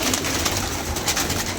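A pigeon coos softly and continuously at close range, a low burbling call over faint background noise, with no voices.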